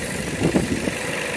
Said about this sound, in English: I got the engine running.